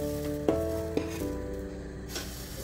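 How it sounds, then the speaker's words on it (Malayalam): Small dosas cook on a hot pan, giving a soft continuous sizzle with a few sharp utensil taps and scrapes against the pan, close by and without speech. "അപ്പം നമുക്ക് ദോശ ഉണ്ടാക്കിയെടുക്കാം."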